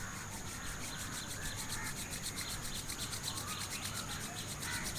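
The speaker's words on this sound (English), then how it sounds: "just rub your both hands together like this." Hands rubbing briskly together in a quiet room during a beginner yoga session, a steady soft swishing friction that runs continuously and evenly without pause.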